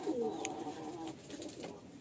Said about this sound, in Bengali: এক জোড়া পায়রা দেখুন